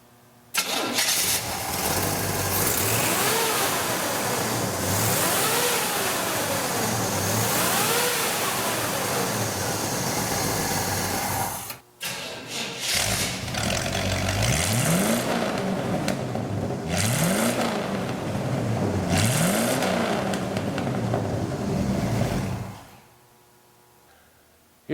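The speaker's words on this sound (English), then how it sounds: "We're going to rev the engine for you this time." A 1956 Chevy 3100 pickup's V8 engine, close and loud, running steadily throughout with repeated revs rising and falling, cutting out briefly near the middle before restarting and revving again, then dropping off at the end.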